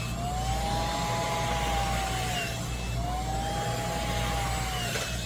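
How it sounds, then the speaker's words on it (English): A hair dryer runs steadily on a low setting, a constant whooshing hum with faint whining tones rising and falling. "I like to use a flat dryer for this part."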